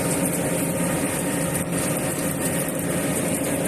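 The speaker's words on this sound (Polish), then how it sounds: "Wjeżdżamy na górkę ale ciągnik dosyć sobie radzi" Diesel engine of a New Holland T6.160 tractor pulling a five-furrow plough uphill through a field, a steady, loud, close drone that holds an even pitch without pause and has no talking over it.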